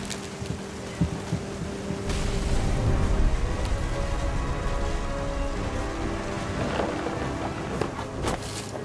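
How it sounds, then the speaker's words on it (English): Rain falls steadily in a thunderstorm in the video game What Remains of Edith Finch, with scattered drops and occasional low rumbles. "Thunder sounded much too close and full of angry power."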